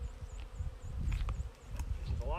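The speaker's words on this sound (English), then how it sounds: "There's a lot of pretty angry bees right now, stinging me." Swarm of agitated honey bees buzzing densely and close around an opened hive while the lid is being replaced, a steady loud drone with brief sharper whines passing near.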